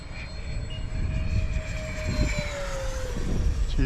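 A Freewing PJ50T RC model private jet makes a low pass on a windy day, its turbine-like whine loud and steady with a gliding pitch shift and rushing air, no talk.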